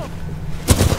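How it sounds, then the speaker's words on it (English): A short burst of gunfire in the shooter game Titanfall 2, loud, sharp cracks arriving abruptly after a quieter rumbling stretch, several shots in quick succession. "Who's shooting at me?"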